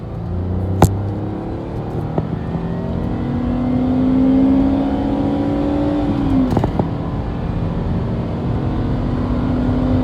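A 2002 Mercury Cougar engine, warmed up, accelerates steadily on the road, its pitch rising through the gears with a brief shift, a continuous close rumble with no talking.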